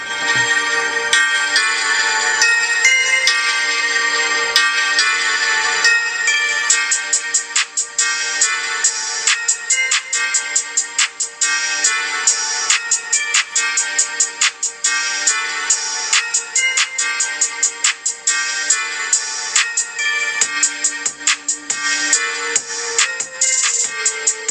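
Stereo speakers of an iPhone 11 play bright music out loud, a continuous tonal melody with rhythmic pulses filling the whole stretch, alone without talk.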